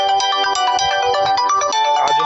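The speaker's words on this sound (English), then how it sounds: "The phone's ringing now." A phone ringtone plays a bright, repeating electronic melody, loud and close, with no talking over it.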